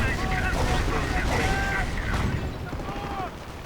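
Dense battle noise in a World War II strategy game, with submachine guns, a Puma armored car and a StuG firing, heard as a continuous din of overlapping gunfire and explosions under voices.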